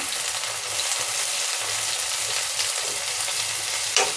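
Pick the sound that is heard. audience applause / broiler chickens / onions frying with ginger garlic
onions frying with ginger garlic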